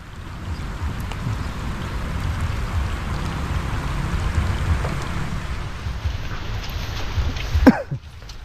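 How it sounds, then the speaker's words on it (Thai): Heavy rain pours steadily through a forest, a dense continuous wash of drops holding loud for several seconds, with a brief louder knock or splash near the end. "ฝนก็ตกเลย"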